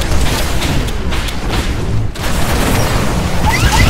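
A massive robotic Titan slams down in a Titanfall match, a loud, sustained rumbling boom filling the mix with dense low roar and a brief dip midway.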